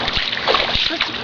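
Water splashes and sloshes close by in a quick burst, a few choppy splatters within about a second, with people's voices mixed in alongside.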